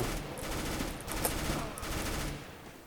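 Rapid bursts of gunfire in Counter-Strike: Global Offensive crackle in several quick volleys, moderately loud and slightly muffled, with no speech over them.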